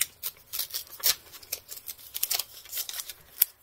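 Vegetable garden stickers are peeled from tacky backing paper in a run of close, crackly ripping and rustling bursts with small gaps and a sharp snap near the end; no voices.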